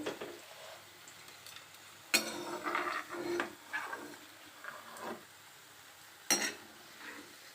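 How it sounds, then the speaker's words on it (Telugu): Bitter gourd and onion fry being stirred in a pan, with quiet scraping and tossing strokes and two sharper knocks of the utensil against the pan, close and fairly soft. "ఇవి మా దగ్గర ఉండి కలుపుతూ ఉండాలి లేకపోతే మా ఒకటి మాడిపోతుంది ఒకటి ఫ్రై అవ్వదు అసలు"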